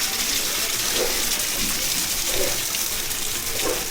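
Floodwater rushes through a street in Mirpurkhas after heavy rain, a steady, broad gushing roar close by with faint splashes and no talking.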